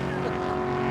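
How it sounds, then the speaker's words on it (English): Drag racing cars speeding down an airport strip in Pennsylvania, a sustained engine roar with steady droning tone, mid-distance, with faint voices in the background. "Just watching those cars going down fast."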